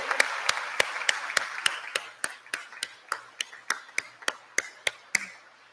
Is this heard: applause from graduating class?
yes